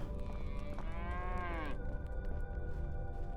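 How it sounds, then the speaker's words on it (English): A single drawn-out cow moo from the Medieval Dynasty game sounds over a low background rumble, rising then breaking off, moderately loud and followed by quieter ambience. "I forgot cows were a thing."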